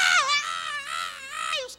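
A voice imitates a roller coaster rider screaming, giving a sustained, wavering high-pitched cry that rises, dips and holds for nearly two seconds.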